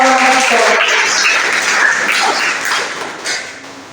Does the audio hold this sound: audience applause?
yes